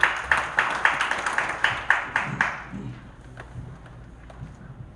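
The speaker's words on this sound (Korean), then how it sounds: "박수로 맞아주시기 바랍니다" A seated audience at a policy debate forum claps in a steady, evenly spaced rhythm that fades out after about two and a half seconds, leaving a quiet room.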